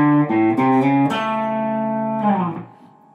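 Slow country lick on guitar in A, a few picked notes with slides and bends ringing into a sustained note that decays, close and alone.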